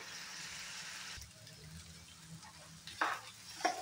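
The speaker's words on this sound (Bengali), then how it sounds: "সবজিটা আমার প্রায় ভাজা হয়ে গেছে, ঠান্ডা করে নেব, আর একটু ভাজা হোক।" Vegetables fry in a pan for shahi paneer, giving a faint, steady sizzle with a few brief stirring scrapes near the end.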